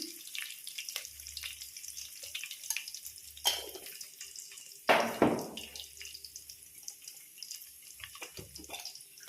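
Curry leaves hit hot oil while tempering for tamarind rice, bursting into loud crackling spits over a low background sizzle, with no voices.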